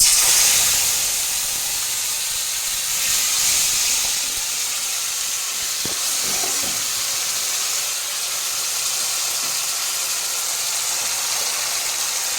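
Tomato paste hitting hot oil with nigella seeds in a pan for a light Bengali fish curry, giving a loud, steady steamy hiss that fills the whole stretch, with faint scrapes partway through.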